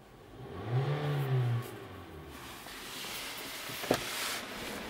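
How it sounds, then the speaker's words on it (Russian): A Kia Cerato GT Line with automatic transmission, its engine revved once: the pitch climbs, holds briefly and falls back to a settled idle, close by, followed by a sharp click. "Немного погазуем."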